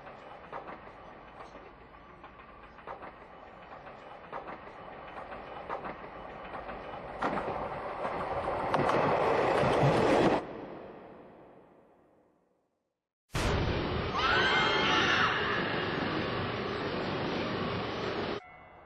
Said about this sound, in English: express train is passing.